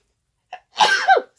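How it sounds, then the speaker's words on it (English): A single close sneeze, preceded by a short sharp intake of breath, then the loud explosive burst with a falling tail, all in a quiet room. "So I'm about to sneeze."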